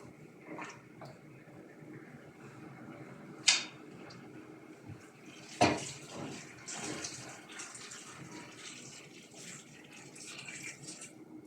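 Water pours and splashes into a cooking pot over masala for chicken mandi for several seconds, with a couple of sharp knocks of metal along the way.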